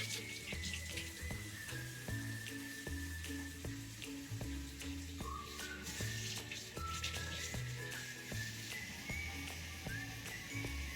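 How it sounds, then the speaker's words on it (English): Water runs steadily from a kitchen tap into a sink, a continuous close splashing stream with soft background tones. "So let me get the water going."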